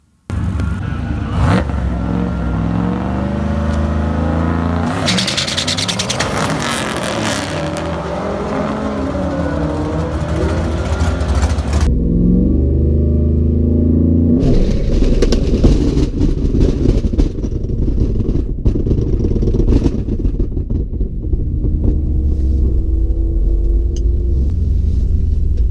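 BMW E36 with a turbocharged LS engine swap launching at a drag strip, a loud roaring engine rising in pitch through gears, then dropping into a rough, rumbling lower tone.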